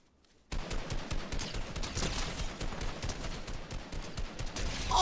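A rapid fusillade of gunfire in the video game Fortnite comes as dense, crackling bursts after a short quiet start, with no talking over it.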